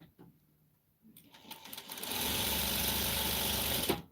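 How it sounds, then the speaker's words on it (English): A sewing machine stitching Dollar Tree fabric patches starts after a quiet moment, ramping up into a steady, fast mechanical whir that runs continuously to the end, fairly close. "so let's start sewing."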